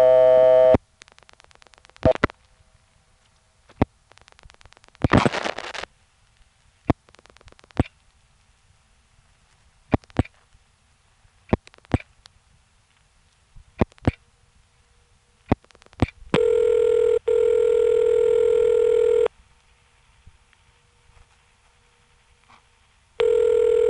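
Telephone ringback tone on a call to a Warwick, New York 986 number through a step-by-step exchange, heard after scattered clicks and line noise as one steady buzzing ring burst of about three seconds, with no voices.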